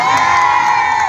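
At a rally on an old city hall plaza, a crowd shouts and cheers in one loud, sustained collective roar that holds a steady pitch for the whole moment.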